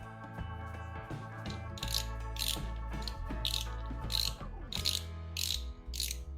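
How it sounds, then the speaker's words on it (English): Spool and drag cap being put back onto a spinning fishing reel, a close series of clicking ratchet and metallic rattling sounds in an irregular rhythm over a low steady hum. "you go ahead and replace back your spool, your tension knob, or your drag cap"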